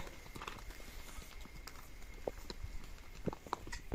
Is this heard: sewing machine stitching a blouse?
no